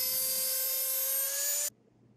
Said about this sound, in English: it's a relatively simple matter to use the Dremel cutter and cut away the strip